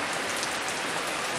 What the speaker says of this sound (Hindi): बहुत बहुत बहुत मोटी बारिश शुरू हो गई है।